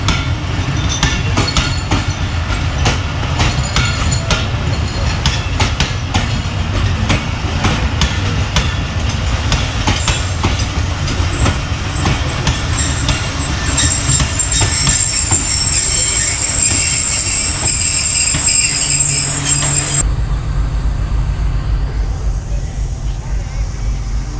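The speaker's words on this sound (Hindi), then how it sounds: "12 डाउन हज़ारा एक्सप्रेस क्रॉस हुआ है" The Hazara Express passenger train rumbles past at close range, with loud, continuous wheel squeal and metallic clatter throughout, the high screech fading near the end while the low rumble carries on.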